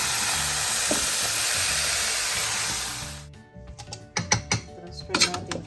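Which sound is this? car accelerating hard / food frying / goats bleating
food frying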